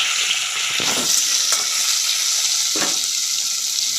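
Chopped tomato stirred into a frying fish curry base over high heat, a steady close hiss of sizzling oil with a few scraping stir strokes.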